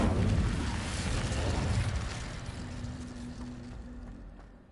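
A deep roaring fire blast from the Incendio spell in Hogwarts Legacy bursts loudly at the start, then rumbles on and slowly fades.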